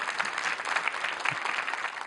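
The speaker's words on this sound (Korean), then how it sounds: "여러분 다시 한번 박수 부탁드리겠습니다." An audience at a televised regional talk show applauds after a dance performance, a loud, dense, continuous patter of many hands clapping with no talk over it.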